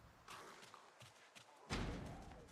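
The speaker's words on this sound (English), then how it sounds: "And he's still banging it." In the zombie survival game Project Zomboid, a zombie bangs on a door in faint, muffled thuds at a distance, ending in a louder, heavier knock.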